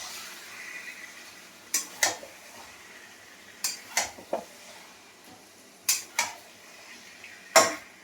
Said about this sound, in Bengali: মাংসগুলো দিয়ে আমি একটু ভালো করে কষে নেব